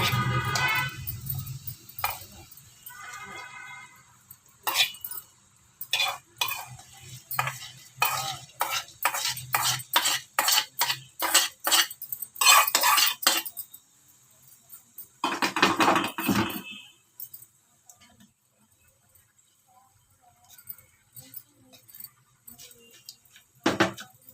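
A spoon stirs hot tempering of lentils, mustard seeds, cumin and curry leaves into garlic chutney, giving a close run of quick scraping, clinking strokes in bursts, then a later short flurry and scattered faint taps.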